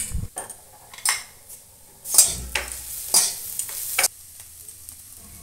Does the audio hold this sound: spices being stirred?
yes